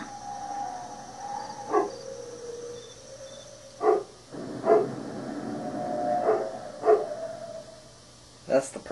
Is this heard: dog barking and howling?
yes